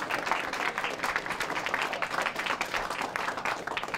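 Crowd applause at a Hardee's restaurant grand opening, a dense, even wash of many hands clapping at moderate distance and held steady throughout.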